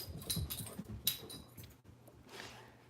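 Dogs at a home make faint, close whimpers with high whines and some soft panting between them, in short scattered bursts.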